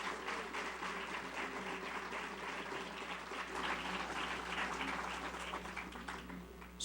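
Warm audience applause in an auditorium at a university cultural event, a steady wash of many hands clapping, even and sustained, heard at a modest distance.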